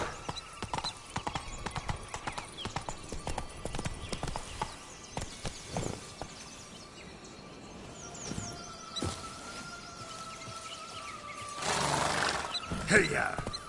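Roach, the horse in The Witcher 3, moves along with rhythmic hoofbeats and a faint snort, heard from close by over game ambience, with some scattered talk and a louder burst near the end.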